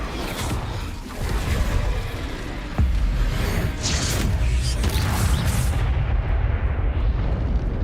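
Fiery spell blasts from the Confringo and Incendio curses in the game Hogwarts Legacy, a dense, continuous roar of booming explosions with a sharp crack near the three-second mark, loud and sustained throughout.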